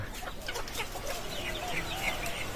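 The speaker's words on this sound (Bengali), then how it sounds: "এত পরিমাণ মুরগি তার বাড়িতে।" Chickens on a home poultry farm cluck and call continuously, several birds overlapping at close range with a steady background hum.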